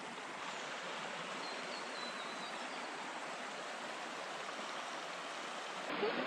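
A shallow creek beside a free campsite in the Dorrigo area runs with a steady, even rushing and babbling, close and constant, with a faint brief knock near the end.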